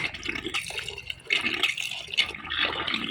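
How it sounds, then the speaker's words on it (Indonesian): Grated bananas being washed in water for banana chips, with splashing and sloshing pulses in short bursts, close and fairly loud, with no talk. "Saya kembali mencuci pisang-pisang yang saya sudah parut ini"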